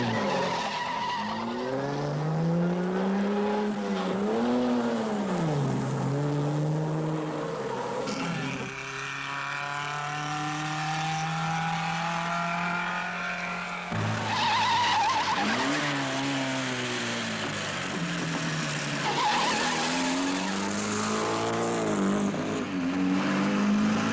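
Rally cars race along a mountain course in the 1958 Alpine Rally: engines rise and fall in pitch as they pass, with squealing tires through the bends, continuous and fairly loud, revving again after gear changes.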